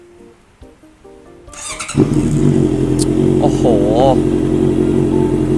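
Honda CBR650F motorcycle from 2013/14 starting up, its exhaust settling into a loud, steady idle rumble with a brief throttle blip, while a voice exclaims briefly over the engine.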